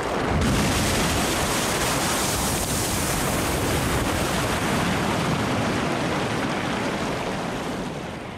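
Strokkur geyser in Iceland erupting, a dense roaring hiss of boiling water and steam that surges loud from the start, holds steady and eases slightly at the end, with no talking.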